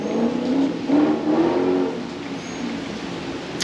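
A car engine revs up on a street, rising and falling over a few seconds, with a steady hum of traffic behind it.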